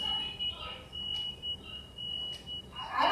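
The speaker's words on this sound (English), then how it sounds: "What is that beeping noise?" A steady high-pitched electronic beeping tone runs throughout, with faint voices and background game sounds around it.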